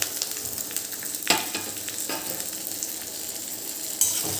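Stuffed okra (bharela bhinda) sizzles as it goes into hot oil seasoned with carom seeds and asafoetida, with a steady frying hiss and a couple of sharp clatters of the pieces and utensil against the pan, close up.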